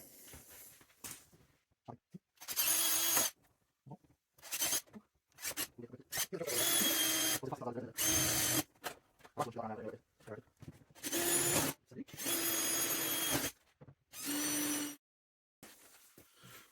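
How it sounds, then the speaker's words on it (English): A power drill bores holes into the bottom of a salvaged Aston Martin DB7 V12 front wing, heard as repeated loud whining bursts of a few seconds each, separated by short pauses and quiet handling noises. "holes are drilled in the bottom of the wing"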